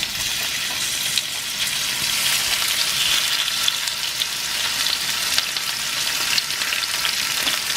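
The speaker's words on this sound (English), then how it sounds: "Now go ahead, put the shrimp in there." Shrimp sizzles and fries in a hot pan for Lao shrimp fried rice, a steady, close hiss of crackling oil lasting throughout with no talking.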